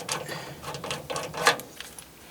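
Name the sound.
unscrewing the knob of a rivnut installer tool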